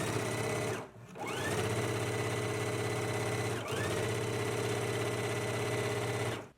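A sewing machine stitching an elastic casing seam on fabric, a rapid steady mechanical whirring hum running close and loud, briefly stopping twice before resuming, with no talking.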